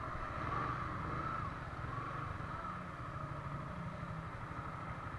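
A Yamaha Sniper motorcycle engine with VVA idles steadily with a low, even rumble that holds at a constant level throughout.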